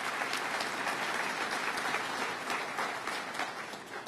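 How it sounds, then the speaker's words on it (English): An audience at a campaign event in Syracuse gives a council president a dense, loud, sustained round of applause, an even wash of clapping that carries on throughout without letting up. "Let's give him a round of applause"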